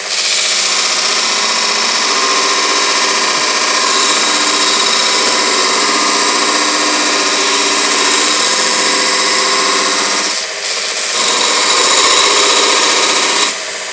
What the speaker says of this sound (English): I took off a significant amount of metal, and this is with the provided belt